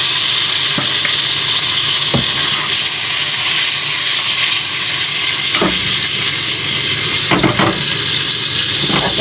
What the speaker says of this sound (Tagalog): Pagugulungin ko lang sa mantika.